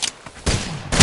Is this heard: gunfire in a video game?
yes